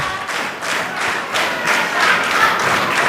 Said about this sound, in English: I think they're clapping for me.